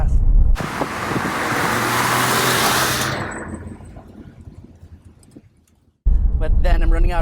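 A 2011 Porsche 911 GT3 RS (997.2) engine under full-throttle acceleration, a loud, broadband roar that builds for a few seconds before the car eases off and the sound fades, with a voice speaking at the end.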